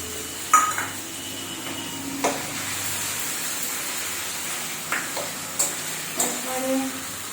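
Ginger paste is stirred into onions frying in a pan for biryani, giving a constant close sizzle broken by several sharp scrapes and clinks of a spoon against the pan.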